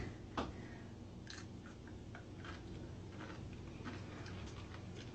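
Crunchy, salty sea grapes are chewed close up, giving a series of small crisp crunches over a low steady background hum.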